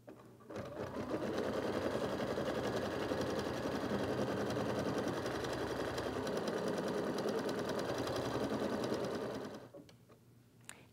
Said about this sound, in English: We'll stitch our first stitch sequence, which will create a placement line directly on the stabilizer